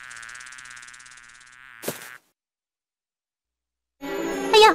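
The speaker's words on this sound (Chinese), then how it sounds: "哎呀，是只蜜蜂" A bee buzzes in an animated Buddhist children's cartoon, a steady, close, droning whine that lasts about a second and a half before breaking off, with a character's voice following after a pause.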